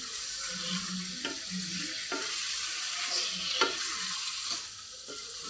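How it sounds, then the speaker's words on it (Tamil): Chicken in masala sizzles and fries in a pan while a spoon stirs it, giving a steady soft hiss broken by repeated scraping strokes about every second, close and fairly quiet, with no talk. "நல்லா மசாலாவை கிண்டி விட்டு"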